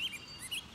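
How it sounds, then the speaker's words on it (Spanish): A brief, faint high-pitched bird call sounds twice in quick succession against a quiet background. "Suena como un pájaro raro y colorido."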